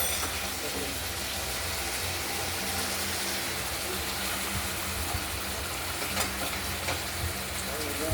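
Tomato being sautéed in a pan for a rohu fish curry with potato and ground spice paste, a steady broadband sizzle and frying hiss running continuously up close, with low rumbling underneath.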